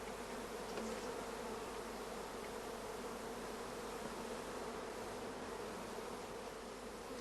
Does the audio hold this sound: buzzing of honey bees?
yes